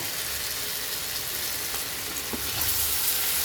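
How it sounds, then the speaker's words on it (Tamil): Pomfret coated in red chilli paste fries in oil on a flat iron dosa griddle, giving a steady, close, even sizzle with no voices, brightening slightly toward the end. "இந்த மாதிரி தோசைக்கல்ல போட்டு எண்ணெய் ஊற்றி இந்த மாதிரி"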